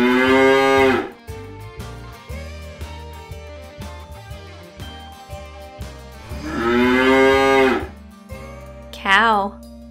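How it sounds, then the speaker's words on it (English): Cow mooing loudly twice, long drawn-out calls near the start and again midway, over a bouncy background music track with a brief higher cartoon-like tone near the end. "Cow."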